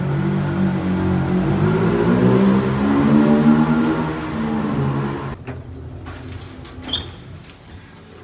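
Engines of discontinued cars at a car museum start up and rev with a droning, rising and falling hum for several seconds. It then drops to a quiet background with a few faint clicks and knocks.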